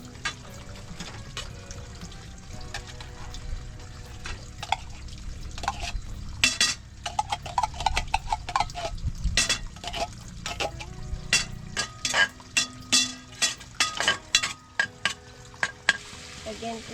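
Ground meat sizzling and frying in a pan for a home-cooked kangkong lunch, a steady hiss broken by scraping stirs and clinks of a utensil that grow busier toward the end, with no talk.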